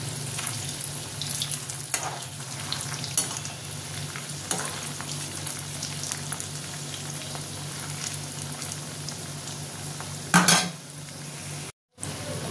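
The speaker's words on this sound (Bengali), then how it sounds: "আস্তে আস্তে ভেজে নেবো, তাহলে ভালো ভেতরটা ভালো সেদ্ধ হবে।" Poa finger snacks fry slowly in hot oil, giving a steady, close sizzle and bubbling throughout, with a brief louder stir or clatter near the end and no talking.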